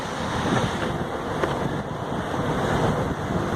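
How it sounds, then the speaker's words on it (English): Strong wind blowing in off a beach, a continuous roaring rush buffeting the microphone, steady and loud for the whole stretch with no speech. "It's windy. It's coming off the beach."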